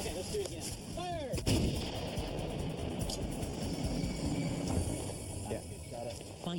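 An artillery gun fired for avalanche control in the Alaskan mountains lets off one heavy blast, followed by rumbling noise and mechanical ratcheting.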